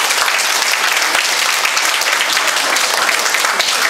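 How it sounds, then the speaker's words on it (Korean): A ceremony audience at an inauguration event gives a big round of applause, thick continuous clapping from many hands, loud and even throughout. "한번 큰 박수 주시면 감사하겠습니다"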